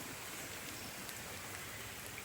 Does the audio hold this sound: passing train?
no